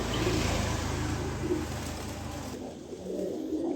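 Maxi racer pigeons cooing in a loft, soft repeated throaty coos under a loud, steady background rush that drops away near the end.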